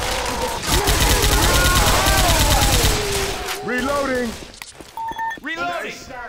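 Auto shotgun firing explosive ammo in a video game, a loud rapid string of blasts for about three seconds, then quieter game sounds as voices talk over the action.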